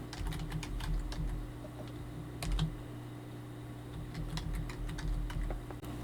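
Computer keyboard keys typed in a quick, uneven run of light clicks while a Windows login is entered during a Windows 7 to Windows 10 upgrade, with steady room hum underneath and no talking.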